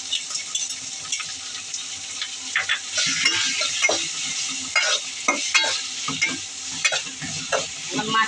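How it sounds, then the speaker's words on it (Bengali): Shrimp fry in a pan with onions and green chili paste, a continuous sizzle punctuated by frequent clattering stirs and scrapes of a utensil, loud and close. "এখন আমি মাছটা ছেড়ে একটু ভাজবো।"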